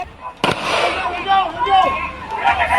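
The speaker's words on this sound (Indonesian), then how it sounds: "terdengar beberapa kali suara tembakan peringatan yang dilepaskan petugas untuk membubarkan massa" A sharp, loud police warning gunshot cracks out to disperse a crowd, followed by the crowd shouting and clamoring, with a few fainter shots later, near a mine in Kapuas, Central Kalimantan.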